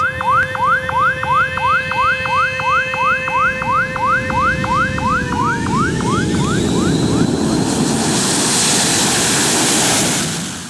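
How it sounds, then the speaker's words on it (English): Jet airliners land and take off on a busy, unfenced Indonesian airport runway; a loud whooping warning siren pulses steadily for several seconds, then fades into a rising, roaring broadband wash of jet engine noise close by. "Planes are landing and taking off left and right"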